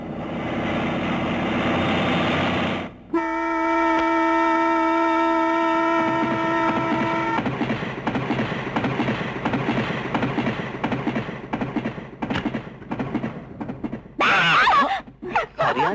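An express train runs past loudly, its long steady horn blast giving way to the clatter and rumble of rolling wagons, with a brief sharp burst of noise near the end.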